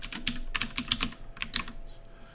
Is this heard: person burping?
no